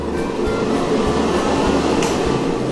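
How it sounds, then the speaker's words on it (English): A dust extraction blower built into a Festool Sysport workbench with an MDF torsion-box top gives a steady, close, loud whooshing hum of air with faint periodic pulses. "it even features a blower that sucks in the dust"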